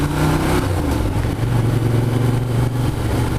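A Ducati Diavel Carbon motorcycle engine on the road, a loud, steady, close drone of engine and exhaust with slight swells in pitch as the rider holds speed, heard alone without voices.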